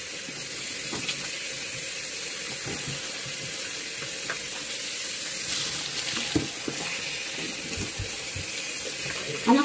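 Shower water pours steadily during a hair wash with shampoo, a close, continuous hiss with scattered splashes and small knocks throughout, no voices over it.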